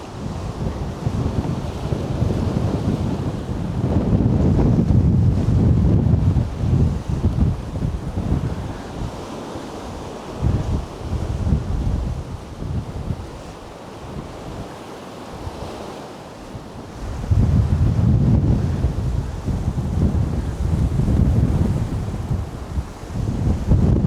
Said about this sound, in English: You can hear the wind whistling through some wires somewhere.